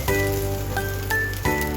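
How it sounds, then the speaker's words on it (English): Sugar snap peas stir-fry in a wok over high heat, giving a steady, loud sizzle with a few sharper crackles and hisses as they are tossed. "Stir-fry sugar snap peas over high heat for just 90 seconds."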